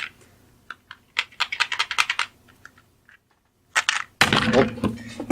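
Rapid clattering rattle of dice shaken in a cup for the High Seas pirate dice bluffing board game, close and loud, in a dense burst, followed by a sharper, louder crashing clatter at the end.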